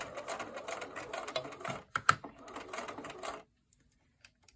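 A home sewing machine stitches fabric up to a pin while quilting a five-pointed star block, running in a steady mechanical whir with a couple of sharper clicks midway before stopping and falling quiet.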